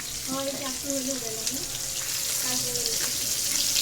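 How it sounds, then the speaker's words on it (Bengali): Fish sizzles and crackles in a hot pan, a steady frying hiss with faint tonal chirps and clinks mixed in. "মাছ হালকা ভাজা দিবেন না?"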